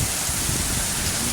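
Heavy storm rain pours down in Jeddah, Saudi Arabia, a loud, steady, dense hiss of rain on surfaces with no let-up.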